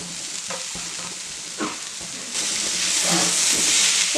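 Two finely chopped tomatoes drop into a pan of sizzling onions for a Kerala-style prawn roast, a few soft scrapes and thuds before the hissing fry swells louder and steadier, close by with no voices.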